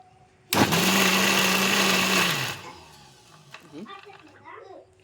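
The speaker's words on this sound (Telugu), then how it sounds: "పచ్చ పట్టుకోవాలి, మరీ మెత్తగా కాకుండా." Mixer grinder coarsely grinding tomato chutney, a loud close whirring burst lasting about two seconds before stopping, followed by a voice talking.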